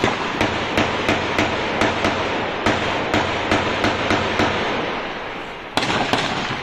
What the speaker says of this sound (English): See, look at the firing. You can hear it.